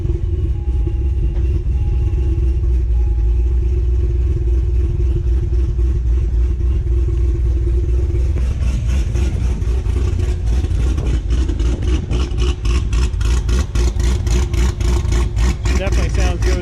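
Supercharged Corvette Z06 with a B3 cam, newly tuned, rumbles at a loud, choppy idle close by, then a burst of rapid revving roughly halfway through, with a voice speaking over the engine.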